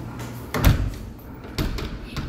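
A newly installed door on a replaced jamb with fitted striker plates swings shut, giving a sharp thud then a second softer knock about a second later, close and fairly loud in a quiet room.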